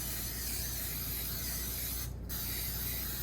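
Cooking spray hisses steadily from an aerosol can onto a baking pan while preparing Irish scones, a close, continuous spray with one brief pause before it resumes.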